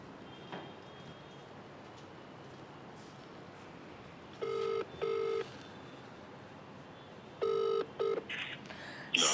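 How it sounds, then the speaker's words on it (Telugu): Telephone dialing tones from a call placed during a live morning news broadcast come as a few short beeping bursts in two clusters, fairly clear over a quiet hissy background. "ఒకసారి గాదయ్య గారికి కూడా ఫోన్ చేద్దాము."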